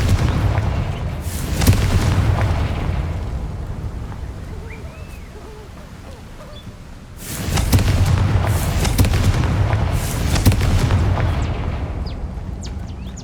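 Booming Confringo spell explosions from Hogwarts Legacy hit close and loud in two clusters. A quieter rumbling lull separates them, and faint hooting creature calls sound in the background.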